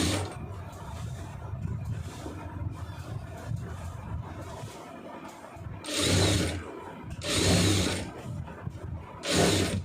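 Domestic sewing machine stitching a boat neck, with a quarter-inch shift between stitch lines; three loud bursts of whirring stitching rise over a steady background hum, close up and without talk.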